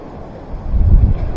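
Wind gusts across a microphone at a rocky coastal fishing mark near Dartmouth, a low rumbling buffet that swells loudly toward the middle of a short burst, with no voices.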